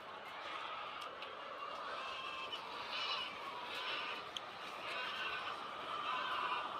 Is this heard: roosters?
yes